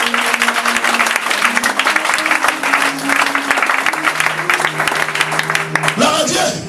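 Congregation in a church clapping and applauding throughout, a dense sustained ovation with a sustained tone underneath, ending with a louder swell.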